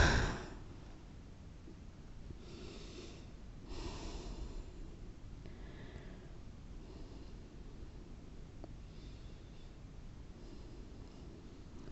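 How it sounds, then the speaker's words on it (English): During a vinyasa yoga forward fold, slow audible breaths and soft exhales come through faintly and close, with a quiet rustle of movement and no talking. "And exhale, we're folding."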